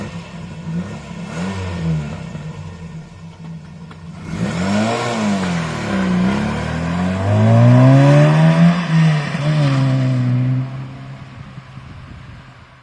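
A 1986 Ford Fiesta XR2 with a four-cylinder carburettor engine pulls away, idling and then revving up through rising, strained engine notes before easing off, loud and close, with no talk over it.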